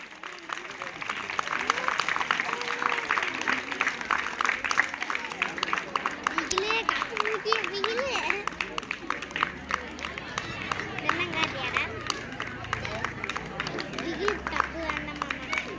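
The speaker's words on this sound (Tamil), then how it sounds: "முயற்சி பண்றவங்களுக்கு ஒரு ஜோரா கைத்தட்டல கொடுங்க." A crowd at a village contest applauds the competitors, dense rapid clapping that holds steady throughout, mixed with chatter and a voice speaking over it.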